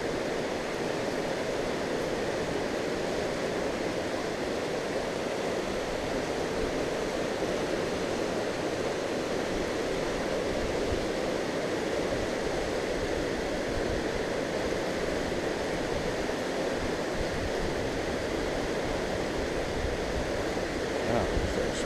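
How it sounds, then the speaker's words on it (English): Flood water rushes under a covered bridge at Hueston Woods, a loud, constant roar with broad churning noise and no pauses, close and unbroken. "Imagine how much water is flowing through here."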